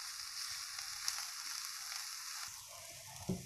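Onion frying in a pot, a soft, steady sizzle with faint crackles and a couple of small stirring taps near the end, heard close and alone.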